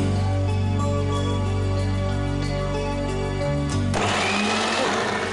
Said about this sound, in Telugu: మిక్సీలో వేసుకొని పేస్ట్ చేద్దాం